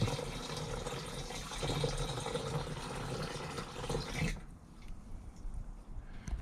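Water pours into the gas tank of an Arctic Cat ZR500 snowmobile in a steady splashing rush that stops abruptly, leaving faint trickles and quiet handling noises afterward.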